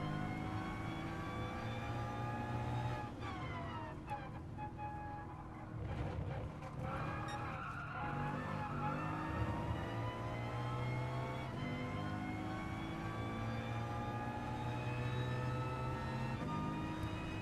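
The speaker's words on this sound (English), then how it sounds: "Love the sound of the cars in this game too." Gran Turismo Sport race car engines whine and rev continuously, with pitch rising and falling as the four-wheel-drive cars accelerate and shift, dense and steady throughout.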